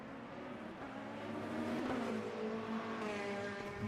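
Race cars at Monza in the video game Le Mans Ultimate drone past at speed, with engine tones rising and blending as several cars run close together, fairly quiet and steady throughout.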